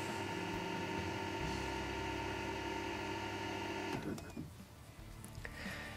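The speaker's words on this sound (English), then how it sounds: "The pump is cut in, as we can hear." A rainwater tank's external electric pump motor hums with a constant tonal drone, then cuts off partway through, leaving quieter clicks and background noise.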